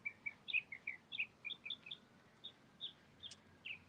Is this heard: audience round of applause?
no